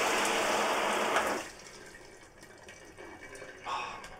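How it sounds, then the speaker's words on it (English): Steady rush of running water in a campervan shower that drops off, leaving a quieter gurgling trickle as water drains away nearby. "Oh, I can hear that drain noise."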